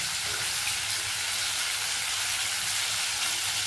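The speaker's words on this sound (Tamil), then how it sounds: "நம்ம நெத்தில் ஃப்ரை எவ்வளோ சூப்பராக ஃப்ரை ஆகிடுச்சு பார்க்கலாம்" Anchovies frying in oil in a pan, a steady, close sizzle that runs unbroken and alone with no voices.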